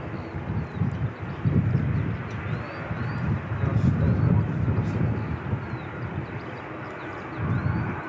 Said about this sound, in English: inbound ATR from Queenstown.